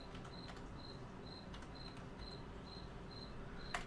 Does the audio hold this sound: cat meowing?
no